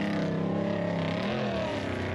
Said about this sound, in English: Here comes another truck.